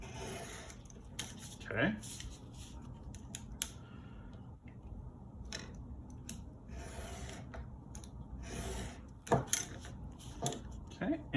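A folded paper signature for a saddle-stitched booklet being trimmed with a cutter: soft scraping, rubbing and sharp cutting clicks at close range over a steady low room rumble, with brief talk.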